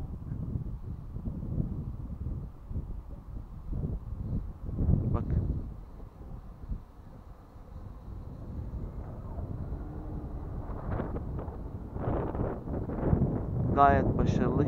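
An 8 metre-per-second wind gusts at an outdoor field where a 3-metre Hangar 9 Valiant model airplane is flying, buffeting the microphone with low rumbling surges while someone talks over it.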